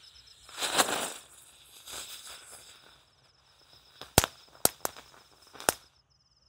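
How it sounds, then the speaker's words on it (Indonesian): A large jumbo ground-spinner firecracker hisses, its whooshing spray swelling and fading twice, then several sharp cracking pops ring out in quick irregular succession. "Kalau ini mercon gangsing yang paling besar, gangsing jumbo, gangsing pratek, sudah menyala"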